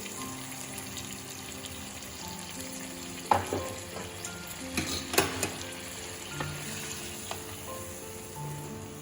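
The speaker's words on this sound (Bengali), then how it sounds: "হালকা গরম জল দিয়ে দিচ্ছি" Mutton curry cooking in a pot as lukewarm water is poured in, a continuous bubbling sizzle with scattered clinks and scrapes of a spoon, no voices.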